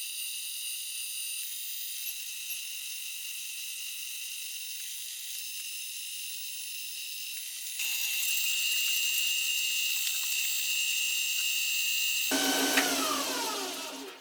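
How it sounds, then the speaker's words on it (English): Acrylic pen blank spinning on a lathe while being polished with micro mesh pads: a steady high whirring hiss that grows louder partway through, then a brief scratchy rubbing before fading. "these micro mesh pads are giving a nice shine to the acrylic"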